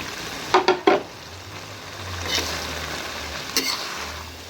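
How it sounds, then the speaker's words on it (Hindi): Moongray, small fried gram-flour snacks, frying in ghee with a spice masala for an aloo moongray dish, giving a soft steady sizzle with a few sharp stirring scrapes near the start and two more later, no talking. "अब इसके अंदर शामिल करेंगे मूंगरे। मूंगरों को पहले भून लेंगे अच्छी तरह।"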